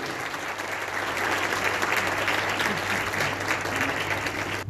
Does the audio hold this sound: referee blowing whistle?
no